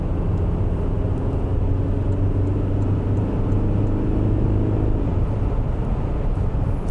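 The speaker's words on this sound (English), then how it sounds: "You can hear the wind noise." Wind noise inside a Toyota Hilux Mild Hybrid pickup at highway speed against a headwind, a steady broadband rush over a constant low engine and road rumble, loud and unbroken throughout with no talking.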